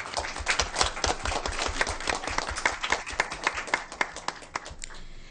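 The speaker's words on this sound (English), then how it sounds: "Let's give our board members a round of applause." A crowd applauds with dense, sustained clapping that gradually thins out and fades toward the end.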